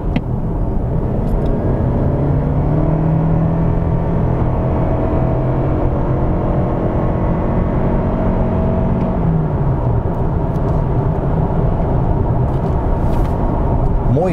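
Toyota Camry accelerating hard in normal mode to overtake, a loud steady engine drone and road rumble with rising harmonic tones that sweep upward and then ease, continuous and close with no talking.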